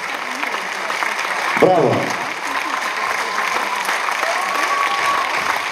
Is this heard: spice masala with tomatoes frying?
no